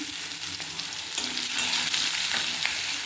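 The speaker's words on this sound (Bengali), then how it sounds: "জিরেটা ভাজা হয়ে গেছে ফোড়নটা এবার পেঁয়াজ কুচি দিয়ে দিলাম" Chopped onion fries in oil tempered with cumin seeds, giving a steady, close sizzle with scraping stirring sounds and occasional louder crackles throughout, and no speech.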